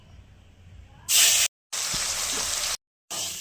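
Potatoes fry in hot oil with a loud, close sizzling hiss that comes in three bursts, each broken off by abrupt silent gaps.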